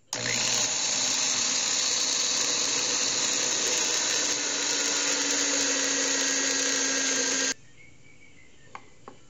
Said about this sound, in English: I've drilled a golf ball deep enough to accept this coupler nut